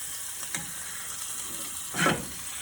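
Food sizzles quietly in a pan on a low flame, a soft steady crackle with a brief louder hiss as the piece is flipped near the end.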